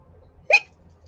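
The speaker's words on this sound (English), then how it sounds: "Weird hiccups." A single loud, sharp hiccup from a person cuts through an otherwise quiet room, brief and close.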